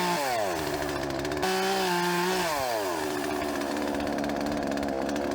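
A chainsaw cutting wood while felling a tree, its engine revving up and down in sustained, loud whining passes close by, with no talk.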